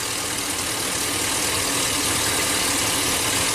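V8 engine of a GM truck idling during a cylinder drop test, with one cylinder giving no contribution to a misfire. A steady, loud, rumbling idle runs throughout with no talk.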